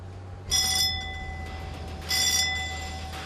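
Two bright metallic bell rings aboard a 29-ton fishing boat, each with a shimmering sustained tone, spaced about a second and a half apart over a low steady engine hum.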